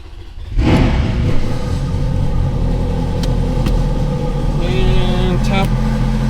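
A Ferrari F430 convertible driving with the top down, a steady close engine rumble and road noise starting abruptly and continuing throughout, with a brief higher whine near the end.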